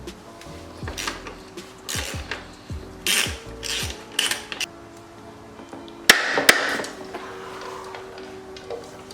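Linkage nuts on a YZ125 motorcycle being worked with a ratchet and breaker bar: repeated close bursts of ratchet clicking, then a sharp crack as a nut breaks loose and more ratcheting follows.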